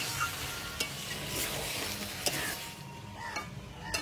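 Black pepper chicken curry being stirred in a pan, with ground pepper and chopped coriander going in: steady close sizzling under repeated scraping strokes of a spoon, a few sharper clinks, no talking.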